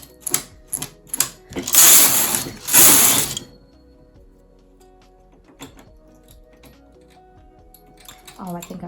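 A knitting machine carriage is pushed across the needle bed in two loud rattling, clattering passes at the start, and quieter mechanical clicks and ticks follow.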